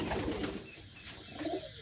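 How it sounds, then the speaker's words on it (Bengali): Pet Mukhi pigeons, a white-headed breed, softly cooing at close range in a quiet loft, a few low murmuring coos rising and falling without speech. "এটা হচ্ছে মুখী কবুতর।"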